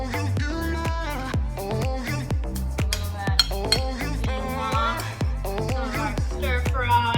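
Dishes and cutlery clink repeatedly while beef stir fry with quinoa and green sauce is plated, with light scattered taps and chimes mixed under ongoing talk.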